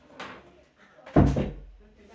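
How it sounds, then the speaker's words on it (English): A door is pushed shut on a cold night during a tense outdoor encounter with police in Clarendon, closing with one solid thud after a short rustle, near and moderately loud, amid quiet speech. "Okay, shut the door."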